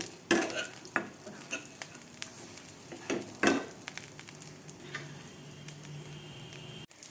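Eggplant fries in oil left from frying fish, a low sizzle broken by sharp spatula stirs and scrapes in a loose rhythm, then a quieter stretch.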